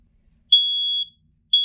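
A household smoke alarm gives loud piercing electronic beeps, one held tone of about half a second followed by the start of another a second later, with silence between them.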